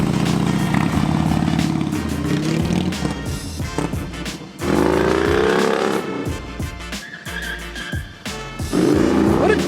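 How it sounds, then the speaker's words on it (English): A Harley Davidson Dyna motorcycle on a test ride, its engine rumbling loudly up close with rising revs and throttle surges, dipping and swelling as it accelerates and slows. "That was a quick test ride."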